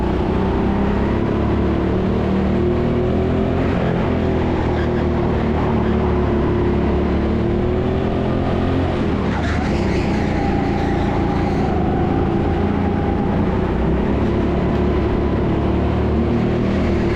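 Go-kart engines at TeamSport Sheffield hum and drone continuously at close range, a loud, steady motor roar with slight shifts in pitch as the karts race, and no voices.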